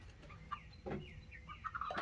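Chickens cluck softly and intermittently nearby in a chicken coop, a few short clucks and chirpy calls scattered over a quiet background.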